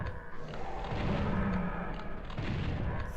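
A chaingunner enemy in the original Doom firing: a steady stream of rapid, punchy gunshots heard close and loud, running continuously without talk.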